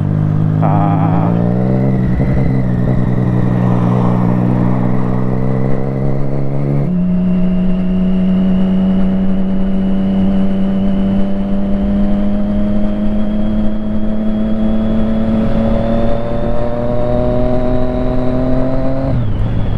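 A Triumph Street Triple 675 motorcycle engine starts, then holds a loud, close, steady idle and rises in a smooth rev with a clear harmonic drone from the exhaust.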